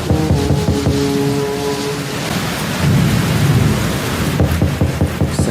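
Steady heavy rain hisses throughout while rolling thunder rumbles low and loud, swelling midway and again near the end, with no voices present.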